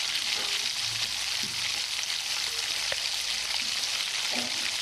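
Food fries in a pan with a continuous, even sizzle and a few faint knocks, close and steady with no voices.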